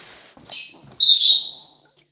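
Pet lovebird parrots in an indoor enclosure give two sharp, bright chirps, the second longer and louder, close by against a quiet room with faint background noise.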